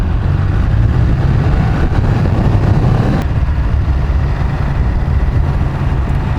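Low, steady rumble of a V-twin motorcycle engine idling along at low revs, constant and close with no talking.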